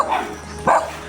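Two short barks from a guard dog, close by, spaced about half a second apart, with quiet between them.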